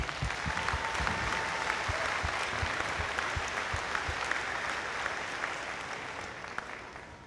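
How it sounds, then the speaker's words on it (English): Sustained applause fills a graduation ceremony hall, dense and steady, fading gradually toward the end with no talk over it. "Please give them a round of applause."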